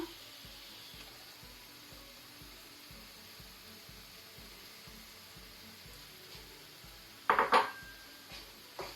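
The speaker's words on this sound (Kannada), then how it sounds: "ಪ್ರಾನ್ ಸೇರಿಸ್ಕೊಳ್ಳುವ" Prawns for prawn masala tipped into a pan, making a brief clattering sizzle and splash near the end after a long stretch of quiet, low kitchen hum.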